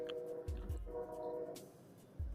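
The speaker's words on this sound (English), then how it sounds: "Hopefully you can't hear that train horn." A train horn sounds in a residential neighborhood at night, a sustained tonal blast heard at a distance, steady and moderately faint, with low thumping bumps from nearby handling noise.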